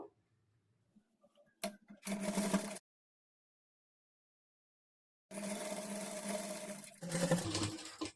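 Sewing machine stitching along a double-folded hem on a halter neck blouse: a few faint clicks, a short whirring run, a long pause, then a longer steady run that shifts pitch near the end, close and without talk.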